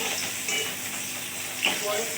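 Parshe fish frying in hot oil, a steady soft sizzle throughout with a brief louder hiss and spatter near the end, no voices.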